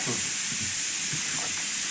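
A steady, high-pitched hiss of escaping steam from a pressure cooker whistling while cooking curry, continuous and fairly loud with faint low rumbling underneath.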